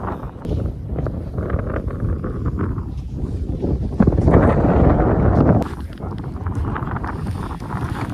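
Strong wind in Ilocos, Philippines buffets the microphone with heavy low rumbling gusts, surging louder midway, with faint voices and outdoor noise underneath.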